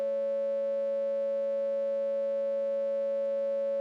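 A synthesizer sawtooth wave holds a sustained chord of 3-limit tuned thirds, with bright, rich overtones and a steady level for nearly four seconds before cutting off abruptly.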